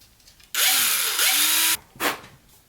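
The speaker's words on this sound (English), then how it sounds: "So let's drill a hole right there." A power drill bores a hole in a vintage lantern, starting with a steady, loud motor whine that holds for over a second. A short second burst follows after a brief pause, with no talking.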